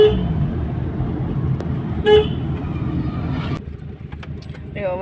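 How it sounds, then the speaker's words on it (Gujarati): Honking car horns in a traffic jam at a closed railway crossing, with steady road and engine noise throughout, short toots punctuating the din and a voice speaking under the traffic. "વચ્ચે ટ્રાફિક ફૂલ થઈ ગઈ, ફાટક પણ બંધ છે"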